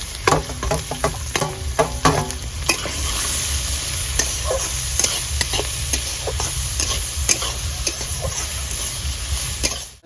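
Bay leaves, dried red chillies, whole cumin and chopped onion sizzling in hot oil, a continuous close crackle broken by brisk clattering strokes of a spatula stirring the pan.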